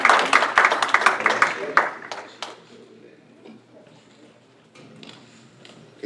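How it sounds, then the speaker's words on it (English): Audience applause for Dr. Green at an NAACP candidates night, a burst of close clapping that peaks at the start and fades out over a few seconds into a quiet room. "Let's give him another applause."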